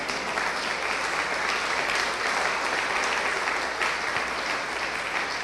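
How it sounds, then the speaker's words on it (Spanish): Steady congregational applause for the Lord fills a church service, a continuous dense clapping from a large crowd that holds at an even level throughout with no voices on top. "Allí sí creo que merece un aplauso el Señor"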